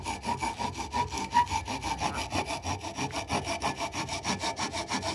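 Someone works a rasp back and forth over a small wooden olive button for knitting, giving a steady rhythmic scraping of short strokes, close and moderately loud.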